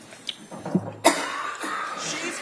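A few sharp coughs from a woman in a courtroom, spaced out, with a harsher, louder cough near the middle, over a faint room background.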